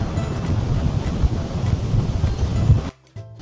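Strong wind buffets the microphone on Southwold Beach by the pier, a constant roaring rush with surf-like noise that cuts out abruptly near the end.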